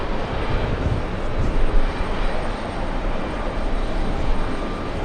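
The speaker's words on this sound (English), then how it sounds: "we have Lufthansa crossing runway 22 right. There it goes" A Lufthansa airliner crossing runway 22 right at JFK airport, heard as a loud, steady jet engine roar that fills the whole stretch without breaks and has no voices over it.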